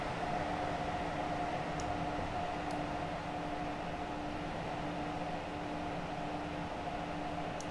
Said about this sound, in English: that is the Armstrong Powerhouse Class 321. That it sounds really good